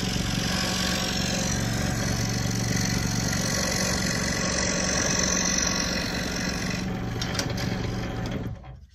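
Scroll saw cutting a workpiece, a steady buzzing mechanical drone with a rapid reciprocating rattle that holds for about eight seconds, then winds down and stops.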